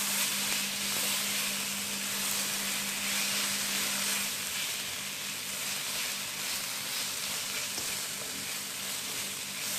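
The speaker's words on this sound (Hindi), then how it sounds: "इसको ऐड करके मैं इसे मिक्स करूँगी।" Masala bhindi with tomato paste stirred in, frying in a pan with a loud, unbroken hissing sizzle and faint stirring underneath.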